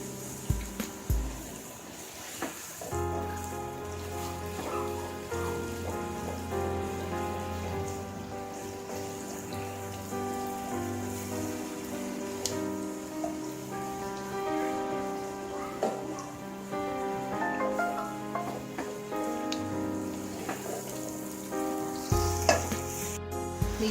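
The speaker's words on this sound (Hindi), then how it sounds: "दो से 3 मिनट तक हम इसको प्याज को अच्छी तरह से गोल्डन ब्राउन कर लें।" Onions fry in a pan for chicken do pyaza, browning to golden in a steady, close, crackling sizzle with occasional stirring scrapes and no talking.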